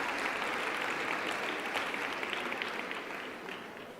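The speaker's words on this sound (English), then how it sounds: "Round of applause, everyone." A conference hall audience at the Standard Bank Top Women Conference applauds the Deputy Minister, with continuous crowded clapping that stays strong and then gradually softens toward the end.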